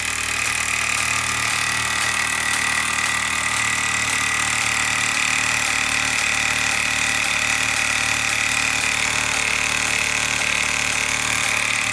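A Mamod Minor MM1 toy steam engine from about 1947, with a very small drive wheel, runs a Mamod model workshop, a steady continuous whirring and hissing drone held close and loud with no breaks.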